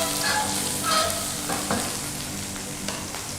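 Fresh prawns fry in oil over a low flame, a steady soft sizzle with occasional stirring scrapes, close and continuous with no talk.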